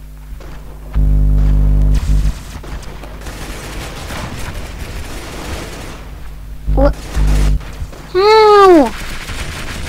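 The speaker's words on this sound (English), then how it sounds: "The rubber shotgun sucks. It's the worst shotgun in the game." Several heavy shotgun blasts from a rubber shotgun in a video game, a pair of booming shots early and a few more later, mixed with game noise and a quick rising whoosh, while a player talks briefly.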